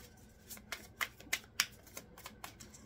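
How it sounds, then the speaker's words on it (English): Tarot cards being shuffled by hand, a run of crisp riffling flicks and soft slaps at an uneven rhythm, close and fairly quiet with no talking. "I feel like this doesn't want to shuffle"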